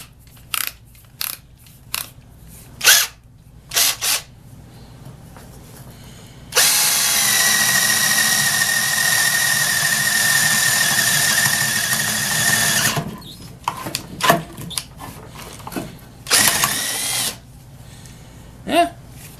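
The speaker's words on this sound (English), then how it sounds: "Well, let's see how it works actually drilling something." A Craftsman 14.4V cordless drill with a repaired motor, several short whirring trigger bursts, then one long steady high whine while boring into material, then more brief bursts, close and loud with no talking.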